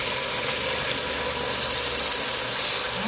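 Water is poured over lamb cutlets frying in a pot, setting off a loud, steady, hissing sizzle that holds constant throughout.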